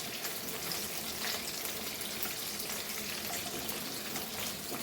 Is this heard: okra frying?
yes